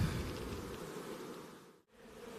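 Honeybees fly in to a hive at an open-air migratory apiary, a steady close buzzing drone that carries on without a break, with no talking.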